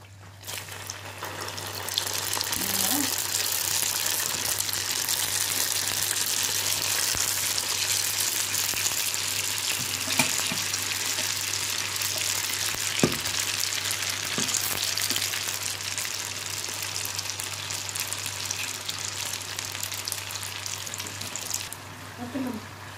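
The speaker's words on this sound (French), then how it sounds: "je vais commencer la deuxième partie de la friture" Continuous loud crackling sizzle of chicken spring rolls deep frying in hot oil, close and steady for the whole stretch, with occasional clinks and a low hum.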